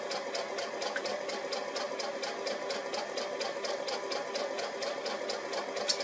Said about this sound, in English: I'm going to go ahead and get my seam sewn on this side.